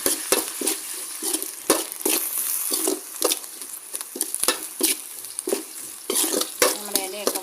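Drumstick leaves being sautéed in a pan for a homestyle Kerala curry, a soft sizzle under repeated scraping and stirring strokes, with occasional clinks of a utensil against the pan.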